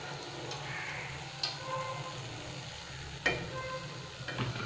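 Besan khasta papdi fry in hot oil with a continuous low bubbling sizzle, broken by a couple of sharp clicks of a utensil against the pan, close and moderately loud.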